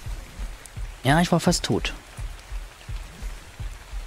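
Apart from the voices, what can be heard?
rain in video game ARK Survival Evolved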